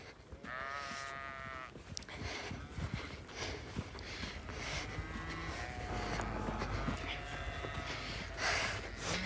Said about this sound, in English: So here we have the cows and calves.